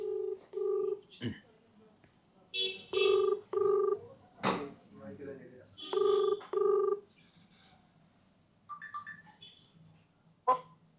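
A phone call rings out over speakerphone, with several bursts of a buzzy two-part ring spaced across the stretch and voices talking in between.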